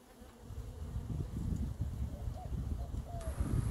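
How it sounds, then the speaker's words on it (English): A steady, dense buzz of honey bees drones throughout around a hive, swarming close by, with faint chirps and rustling mixed in. "there are no bees flying around in there"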